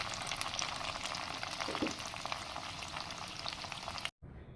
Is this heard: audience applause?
no